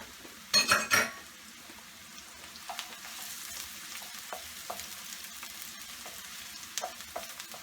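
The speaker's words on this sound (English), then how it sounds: "now we're going to add 2 cloves of chopped garlic" Chopped garlic for a prawn masala drops into a pan with a brief loud clatter, then fries with a soft, steady sizzle under light scraping and stirring clicks.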